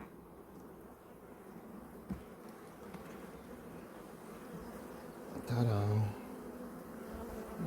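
Honey bees buzzing over a hive frame during an inspection, a steady droning hum close by, with a single word spoken and a brief louder burst of handling noise partway through.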